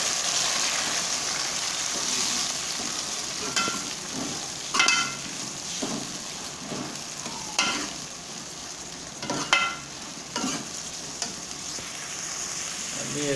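Tomatoes stirred into browned onions frying in a pan for a chicken and chickpea dish: a steady, close sizzle with periodic scraping stir strokes, no talking over it.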